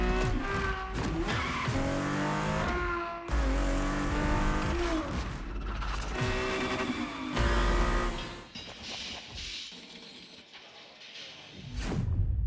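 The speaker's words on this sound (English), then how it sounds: "The Ferrari F50, a bridge between road and racetrack." A Ferrari F50 in The Crew Motorfest revs hard and shifts through gears, with loud rising engine howls, tire squeals and skids, briefly easing before the engine roars up again at the end.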